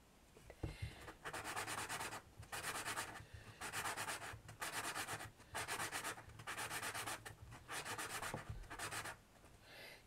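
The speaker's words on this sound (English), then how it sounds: "any imperfections, we can just sand them down" Air-dried clay miniature food being sanded by hand in repeated back-and-forth strokes, about nine close, steady rasping bursts separated by short pauses, with no talking.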